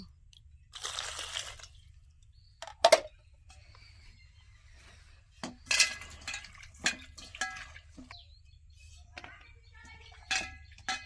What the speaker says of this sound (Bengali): বেগুন কাটা হয়ে গেছে, এবার ধুয়ে নেব।